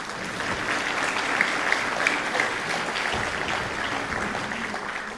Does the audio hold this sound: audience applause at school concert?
yes